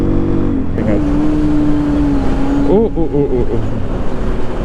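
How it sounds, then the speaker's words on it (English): A Sonlink SL 150KD motorcycle engine-braking on a road ride, a steady droning engine note that holds and then wavers as revs fall, with wind noise throughout and a brief voice. "Such terrible engine braking noise."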